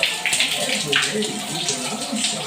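Water runs steadily from a tap during dish washing, a continuous broadband splash and gush with voices talking over it.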